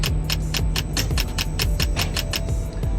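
A fast, steady ticking of a timer during a tower crane concrete wall pour, loud and evenly spaced over a constant machinery rumble.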